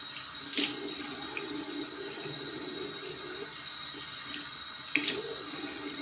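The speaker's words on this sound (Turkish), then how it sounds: "elinin içine su doldurup yüzünü yıkamayı sevmiyor" A tap runs steadily into a bathroom sink at bedtime while a child cups water in her hands to wash her face, with faint splashes over a soft, continuous flow and two sharper splashes.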